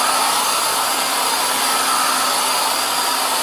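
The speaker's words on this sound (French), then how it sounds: "j'allume le décapeur" Steady loud whoosh of an electric heat gun drying paint, running continuously at close range with a constant airy roar and a faint motor hum, no talk.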